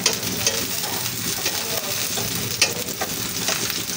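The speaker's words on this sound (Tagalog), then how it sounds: "Sandali lang po ay luto na ang ating fried talong." Eggplant (talong) frying in a pan, a loud steady sizzle with occasional stirring clicks and scrapes, close up and without talk.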